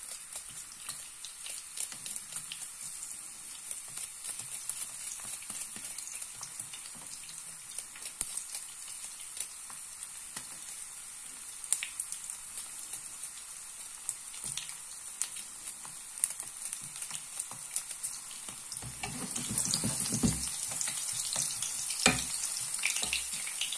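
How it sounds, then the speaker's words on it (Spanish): Longaniza sausages frying in a pan for a wine braise, a steady soft sizzle with crackle running throughout and growing louder and busier near the end, heard alone without talk. "Que nos vaya friendo un poquito."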